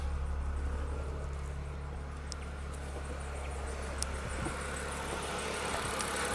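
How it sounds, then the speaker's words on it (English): A Dacia Sandero Stepway II with the 0.9 TCe petrol engine idles smoothly, a steady low hum with faint, even pulsing, heard alone and fairly quiet throughout. "The engine is running very smooth, very sweet"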